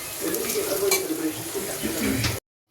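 Onion frying in a pan, a close, steady sizzle with some stirring and utensil clinks, ending abruptly in silence.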